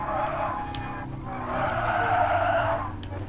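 Car tires skid and squeal as a race car oversteers through a corner in a sim racing video game, a loud sustained screech that swells in the second half over engine noise.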